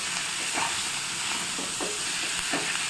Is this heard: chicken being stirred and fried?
yes